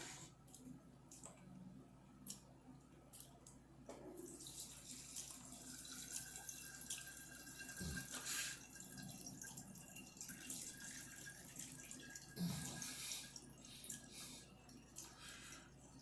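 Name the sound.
liquid poured through a coffee filter in a funnel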